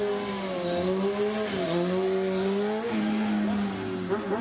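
Race car engine, stated at 25 kilowatts, accelerating in a qualification round: a continuous buzzing whine that rises and shifts pitch in steps as it revs, steady and fairly loud throughout with no speech.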